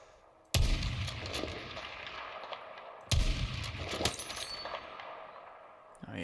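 Two loud sniper rifle shots in the video game Battlefield 6, each a sharp crack followed by a long decaying echo, spaced a few seconds apart.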